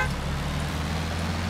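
Car horn honking inside the survival video game SCUM, a steady blaring toot heard over continuous engine and road rumble, fairly loud and sustained throughout.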